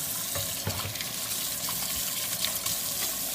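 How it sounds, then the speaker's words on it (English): Hands are washed under a running kitchen tap before cooking. The water gushes and splashes steadily and continuously, close by, with small shifts in the flow and no talking. "before we start any meal, we're going to wash our hands"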